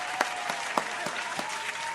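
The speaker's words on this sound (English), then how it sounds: "Round of applause to mail call." An audience claps together in a steady, moderately loud round of applause, with a few sharper individual claps standing out.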